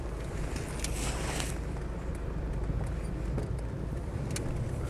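A Land Rover Discovery 300TDi five-door seven-seater drives along with a steady low rumble of diesel engine and road noise, heard from inside without voices.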